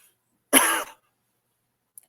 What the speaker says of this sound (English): That cough was not a commentary.